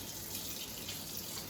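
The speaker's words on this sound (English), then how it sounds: "we're going to add some cold water" Cold water runs from a tap in a steady, unbroken hissing stream, close and even throughout, with no voices.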